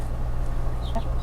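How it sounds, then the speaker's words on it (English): Backyard hen clucking briefly and softly, a short squawky call rising over steady outdoor background noise in a garden during fall cleanup. "I am down to 2 chickens."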